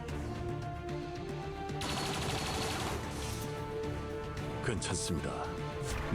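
Sustained automatic gunfire and turret fire in the tactical game XCOM 2 Long War of the Chosen, a steady rattling barrage running throughout under a musical drone, with a voice talking over it.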